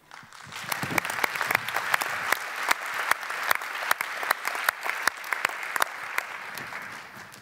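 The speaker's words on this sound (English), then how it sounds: "Please, a huge round of applause for Daniela Bas." Audience at a conference opening keynote claps steadily, a dense, even patter of many hands with sharper individual claps standing out, sustained throughout at moderate loudness.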